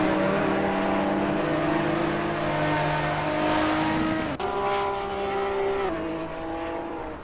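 A Porsche 911 race car engine in a racing video game holds a high, steady drone. It shifts gear abruptly midway and then climbs again, sounding close and continuous with no voices.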